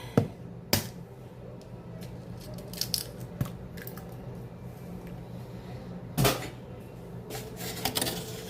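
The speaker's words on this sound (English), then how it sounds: "So I'm cracking 3 eggs." Three eggs cracked in a home kitchen, sharp brief taps and cracks spread over several seconds among small clinks of dishes, close and fairly quiet with no talking.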